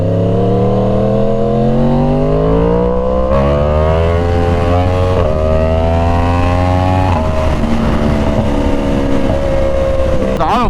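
A Yamaha R1 sport bike's engine revs hard and loud through rising gears, auto-blipper downshifts bursting in with crackling exhaust pops, with wind roar throughout.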